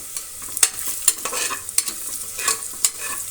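Spoon scraping and stirring red chili powder into paneer biryani masala cooked in a pressure cooker, with a soft sizzle beneath and five or six sharp metallic scrapes at irregular intervals.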